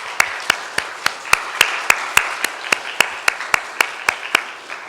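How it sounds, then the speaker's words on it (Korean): A church congregation claps in thanks to parents: a steady, evenly spaced run of about eighteen sharp, crisp claps, roughly three or four per second, fairly close and loud, with no talking. "감사의 박수를 한번 하겠습니다"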